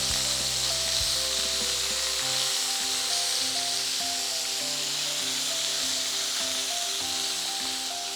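Marinated Kashmiri chilli chicken frying in a pan, a steady loud sizzle and hiss throughout with occasional scraping and stirring noises, no talking.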